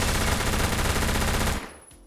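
Rapid, continuous P90 automatic fire from Phantom Forces, loud and dense for about a second and a half before cutting off sharply into near silence.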